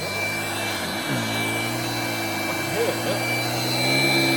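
A Hoover Brushvac handheld vacuum cleaner runs steadily close by, a loud, sustained motor whine whose pitch dips briefly then settles, with a slight rise in strain toward the end.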